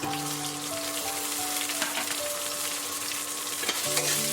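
Ginger, garlic and crushed shallots sizzle and fry loudly and steadily in a pan for a Malabar fish curry, a dense crackling hiss with occasional stirring scrapes.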